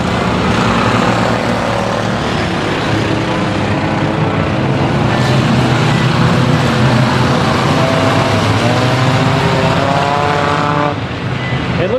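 Enduro race cars roar around Grand Rapids Speedway at a late-race finish, one car running on only three tires, a loud continuous wall of engine noise with overlapping revving drones and no voices on top.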